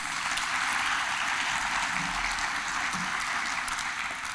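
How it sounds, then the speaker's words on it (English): Audience applause for presenters at a talk on building resilient community food systems in Missouri, a steady wash of many hands clapping, moderately distant and sustained throughout. "So maybe we can give them another round of applause."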